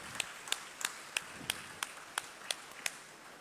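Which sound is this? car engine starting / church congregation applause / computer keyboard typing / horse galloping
church congregation applause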